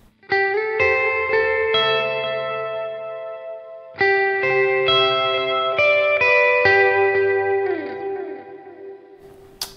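Electric guitar through a Line 6 Helix picks out ringing note patterns drenched in reverb and delay, the repeats trailing behind each phrase before fading out.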